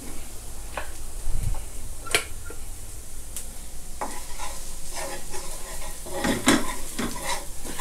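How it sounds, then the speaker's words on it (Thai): Garlic stir-fries in a wok for a salted-egg sauce prawn dish, a steady close sizzle broken by repeated scrapes and clinks of a ladle against the metal, with no talking. "ผัดกระเทียมให้เขาหอมนะครับ"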